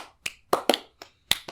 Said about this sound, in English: Jeffrey returns to his seat as the room claps unenthusiastically.